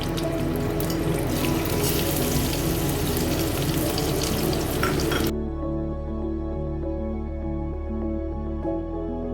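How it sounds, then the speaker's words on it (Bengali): Boiled potatoes frying in hot oil in a kadai, a dense hissing sizzle for about five seconds that then cuts off abruptly, leaving a low steady hum, no talking. "সেদ্ধ করে রেখেছিলাম আলুগুলো সেগুলো তেলে দিয়ে দিলাম"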